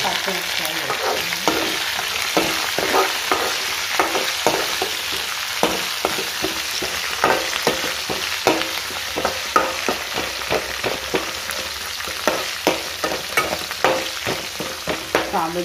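Green chillies and curry leaves fry loudly in hot oil for sabudana upma, a steady close sizzle broken by frequent scraping stirs throughout, with no talk.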